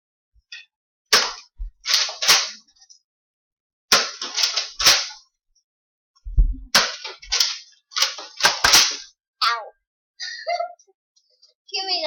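Toy Nerf blasters fire in a Nerf gun war among siblings and friends, giving sharp snapping clicks in quick bursts and singles close by, with voices between shots.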